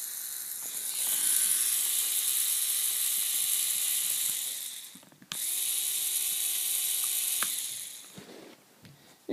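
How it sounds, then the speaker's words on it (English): A small electric motor driving a small gear that turns a big gear, giving a loud, close, steady whirring grind with a ratcheting edge, running in two long bursts separated by a brief stop. "There's a small gear moving a big gear, which makes it better."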